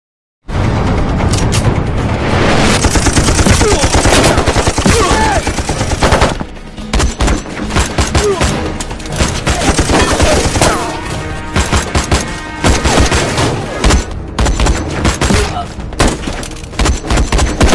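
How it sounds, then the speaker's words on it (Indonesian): Gunfire crackles continuously through a gangster film shootout, with rapid bursts, booms and volleys crowding the entire stretch, loud and dense throughout. "kedua kelompok pun terlibat baku tembak"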